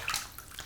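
Warm water splashes and sloshes in a sink during a washing with soap, a brief close wash of running water with small gurgles and no voices.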